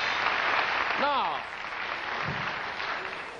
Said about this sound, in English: usually applause is still going while I do this